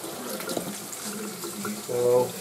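Tap water running over a hot stovetop pressure cooker to cool it quickly, a steady low splashing stream that swells louder near the end, with no talk over it.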